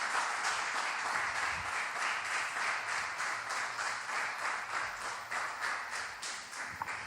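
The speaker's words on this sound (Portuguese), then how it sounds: "Então dá uma salva de palmas bem forte para ele aí." Church congregation clapping during a sermon, a fairly faint but steady rhythmic patter of hands with regular beats running throughout.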